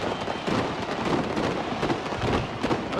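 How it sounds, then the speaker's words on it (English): New Year fireworks exploding over Darwin in the Northern Territory, heard as a dense, continuous roar of crackling bursts and booms that blend together without clear gaps. "We're now seeing the Darwin fireworks from the Northern Territory."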